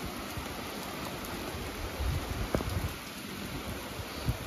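Heavy rain pours over the Bandarban hills, a dense steady wash of drops with a few louder splashes and low rumbles mixed in, constant throughout and without talk.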